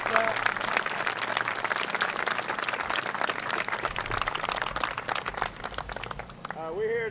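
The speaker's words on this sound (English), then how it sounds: "let's give these ladies a big round of applause" An audience claps for women after a Chickasaw stickball demonstration at the launch of the Center for Sovereign Nations, steady crowd applause throughout with a voice starting to speak at the very end.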